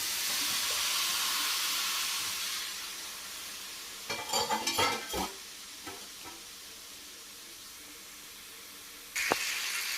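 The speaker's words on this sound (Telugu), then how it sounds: "కొంచెం ఆయిల్ వేసుకొని వీటిని ఇలా కలపండి" Chopped tomatoes sizzle and hiss in oil in a hot pan, a steady frying wash with a burst of scraping stirring clatter in the middle and a sharp knock near the end, no talking.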